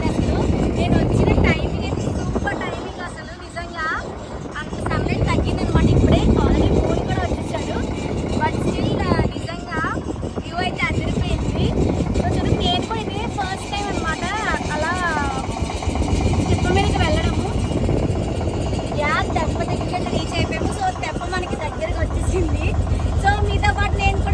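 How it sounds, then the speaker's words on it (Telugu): A river boat engine drones steadily throughout at close range on the Godavari, with voices talking over it for much of the time. "మనకి పడవ అయితే స్టార్ట్ అయిపోయింది"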